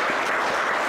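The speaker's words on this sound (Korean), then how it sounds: "우리 박수 한번 해요." Audience clapping at a church seminar, a brief steady patter of applause at moderate volume, heard alone.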